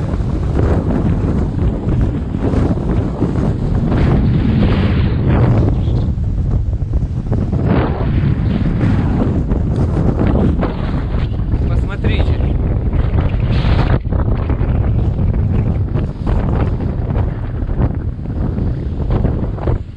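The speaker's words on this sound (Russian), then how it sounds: "очень сильный ветер, вы посмотрите" Strong wind roaring and buffeting the microphone continuously in the Chernobyl exclusion zone during large wildfires, loud and gusty with a rough, rumbling texture.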